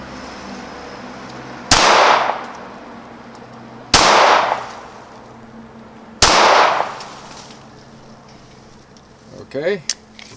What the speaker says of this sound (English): fired 4 rounds